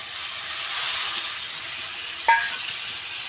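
Ground spice paste for a pabda fish curry fries in a pan with a soft, steady sizzling hiss, broken once by a brief sharp clink partway through.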